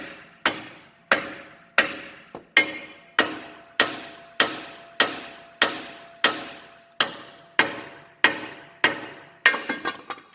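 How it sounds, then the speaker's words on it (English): A hammer strikes a ball joint in a Dana 60 front axle about sixteen times, sharp metallic blows at a steady pace, each ringing briefly before the next, ending in a quicker flurry. "we get to have a little bit of fun with the hammer. You can just beat it right here and right there, and it'll just fall right out."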